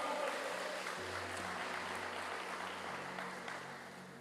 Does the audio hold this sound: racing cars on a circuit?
no